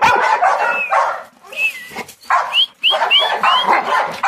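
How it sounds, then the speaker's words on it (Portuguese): A dog barks and yips in short, loud bursts, with high whimpering squeals between barks, close by and in the foreground, heard during rough play with a soft rubber toy. "Tá deixando bravo esse cachorro."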